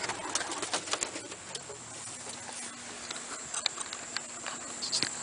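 Roller pigeons are released from a loft, a flurry of soft flapping and scattered wing claps and scuffles rising and falling outdoors at close to moderate distance, with no talking.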